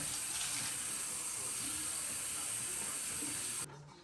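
Water runs steadily from a tap in a continuous close hiss while rinsing conditioner out of locs, then cuts out abruptly near the end.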